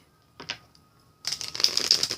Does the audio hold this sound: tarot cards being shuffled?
yes